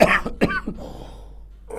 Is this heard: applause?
no